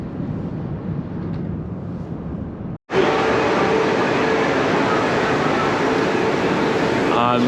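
Inside a passenger train cabin heading to Badaling Great Wall station, a steady rumbling hum of the moving train plays, cut by a brief break before a louder, brighter continuous ride noise resumes.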